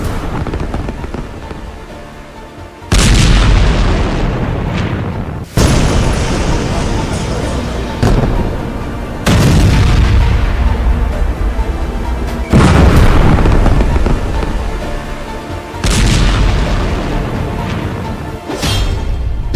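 Airstrikes in Beirut set off a series of heavy, booming explosions. About six loud blasts land several seconds apart, and each one rumbles and fades into a roar before the next hits.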